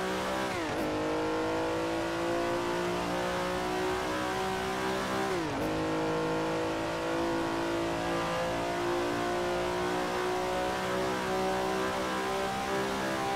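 Race car engine from the Assetto Corsa GT Legends mod revving hard and steady, with two sharp drops in pitch at gear shifts before climbing again, loud and close throughout with no voices.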